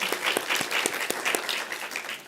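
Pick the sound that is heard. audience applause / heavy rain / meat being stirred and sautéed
audience applause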